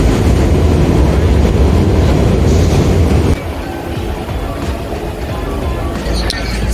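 A New York City train rumbles loudly at Brighton Beach station on the Fourth of July, a heavy continuous roar that eases slightly partway through, with indistinct voices in the background.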